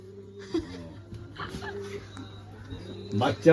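Pigeons coo softly in a multi-storey rooftop pigeon loft, low warbling calls repeating at close range, while people talk and laugh over them.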